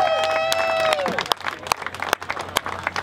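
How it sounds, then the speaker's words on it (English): A crowd at a drone racing nationals event claps in scattered, uneven bursts, following a fading high electronic whine, with voices mixed in. "I don't know what I'm clapping for"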